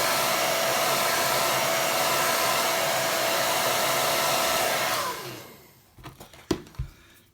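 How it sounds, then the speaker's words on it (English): A hair dryer blows steadily on a watercolour painting for about five seconds, then cuts off, followed by a few light knocks and taps. "Now I'm going to go back and finish drying this off at the top here."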